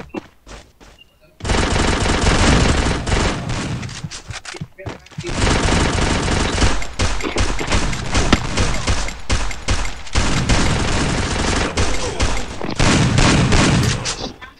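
Rapid automatic gunfire from the Free Fire battle royale video game, loud sustained bursts filling most of the stretch with brief pauses, with voices talking over it in places.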